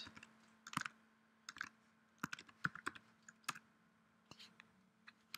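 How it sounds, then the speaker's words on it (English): Keys clicking on a Mac computer keyboard in short irregular bursts of typing with pauses between, close and fairly quiet, no voices. "Right, let's just type IPFS"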